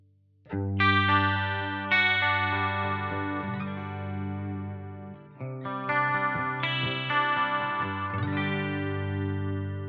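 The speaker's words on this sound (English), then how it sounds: "These are really nice glassy clean tones, and they do really well with a little bit of modulation" An electric guitar plays clean, glassy, shimmering chords with a wavering chorus-like modulation, sustained notes ringing out in two phrases with a short break between.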